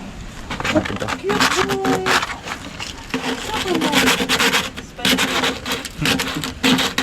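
Rough, repeated rubbing strokes of hand sanding with sandpaper scratch back and forth close up, while men chat over the work.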